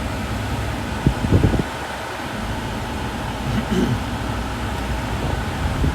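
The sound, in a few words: Mitsubishi L200 air conditioning fan blowing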